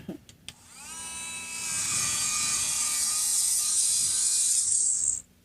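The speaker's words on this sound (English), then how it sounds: "let me vacuum it a little bit" A vacuum cleaner runs during restoration of an old guitar, starting after a few light knocks, whining steadily for about four seconds and then cutting off abruptly.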